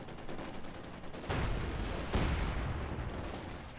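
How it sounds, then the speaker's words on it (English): Explosive bursts from a 120mm mortar firing in the video game Company of Heroes 2, with sharp booming reports near 1.3 and 2.2 seconds over a steady roar of battle noise. "And the 120 meter mortar finishes the job, decrews the Maxim."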